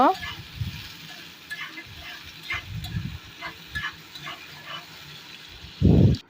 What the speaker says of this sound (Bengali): পেঁয়াজ ও রসুনকে ভালোভাবে ভেজে নেব